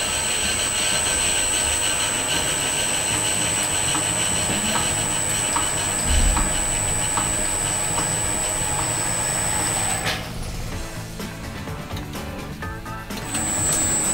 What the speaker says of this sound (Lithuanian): Jos valdymo varikliai, valdymo blokas ir elektros variklis. Užveriame didžiosios scenos uždangą.